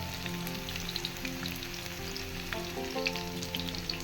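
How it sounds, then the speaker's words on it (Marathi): Goan prawn cutlets fry in a pan with a steady, close sizzle that holds for the whole stretch, broken only by a few soft pops and spatters, with no voice over it. "दोन्ही सायडीन बरी भाजून घेता."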